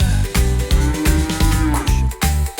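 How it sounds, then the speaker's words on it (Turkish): A cartoon cow moos in a Turkish children's song, several loud, rhythmic moos sung in time over the bouncy music. "İneğimiz lola mö mö mö söyle"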